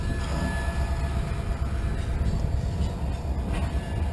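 A train rolls past on the railway in a loud, steady rumble with rhythmic wheel clatter and rattling cars, filling the whole stretch without a break.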